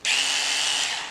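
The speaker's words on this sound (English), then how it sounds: "now I did try this little Dremel thing" A Dremel rotary tool spins up and whines steadily for about a second while buffing a toolbox, a bright high-pitched hum that tapers slightly at the end.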